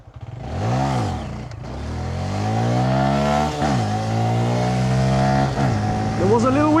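A small Honda Grom MSX125 motorcycle accelerates hard on an unrestricted German Autobahn, its engine note climbing through rising revs with brief dips at gear changes, loud and steady beneath wind roar, with a voice briefly audible.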